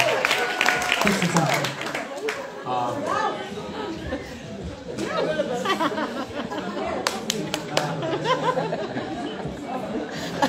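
A concert crowd at a live show in Dublin claps along in fast double time. Dense clapping sits under loud chatter and cheering, with sharper, quicker claps building toward the end.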